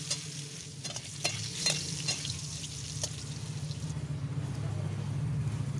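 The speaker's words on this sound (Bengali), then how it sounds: "আলুটা একেবারেই লাল লাল করে ভেজে নেব।" Potatoes frying in hot oil with salt, turmeric and chili powder: a steady close sizzle with scraping stirs and occasional clinks of a utensil against the pan.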